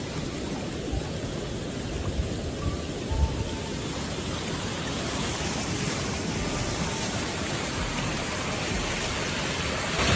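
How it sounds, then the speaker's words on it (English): Heavy rain pouring down on streets flooded with overflowing drains, a dense, loud, constant hiss and roar with no pauses, a few faint low rumbles underneath, and no voices. "Due to heavy rain, the drains couldn't keep up"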